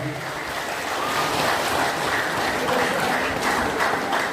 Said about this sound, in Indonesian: Mari kita berikan aplaus untuk paduan suaranya.